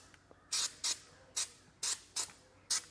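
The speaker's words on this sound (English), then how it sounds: "You can go ahead and grease your ball here." Grease is sprayed or applied onto a gooseneck trailer hitch ball on a 2025 Ford, six short sharp hissing bursts spaced about half a second apart, close and fairly loud.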